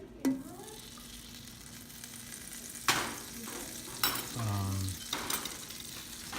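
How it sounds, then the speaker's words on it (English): Butter melting in a hot skillet, a faint low sizzle with a few sharp knocks and scrapes of a utensil against the pan. "We're gonna let the butter melt thoroughly."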